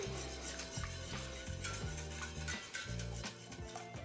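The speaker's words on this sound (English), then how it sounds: "just give that a stir to combine" A spoon rubs and scrapes steadily through bechamel sauce seasoned with salt and pepper in a pan, a close, rhythmic stirring with a faint sizzle beneath and no talking.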